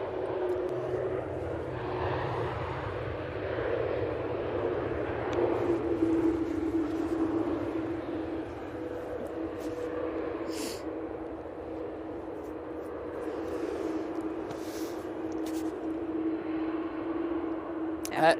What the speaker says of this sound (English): Absolutely superb landing.